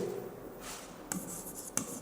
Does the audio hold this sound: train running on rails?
no